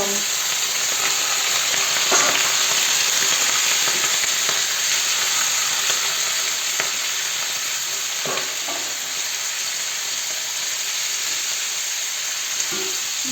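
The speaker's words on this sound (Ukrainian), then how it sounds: "Черевина трошки підсмажилася, додаємо сюди м'ясо." Pork belly and chunks of meat for pilaf fry in a pan with a loud, continuous sizzle and occasional stirring knocks, close and unbroken by talk.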